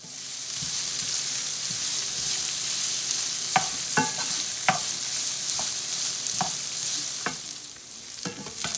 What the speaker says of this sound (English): we want to saute these for about 15 to 20 minutes